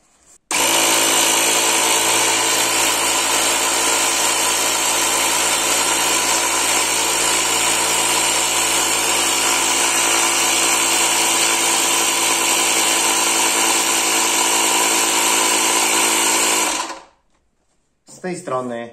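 A Ryobi R18 cordless compressor runs in one steady, loud, buzzing drone that holds constant for about sixteen seconds before stopping abruptly, followed by a brief quiet sound.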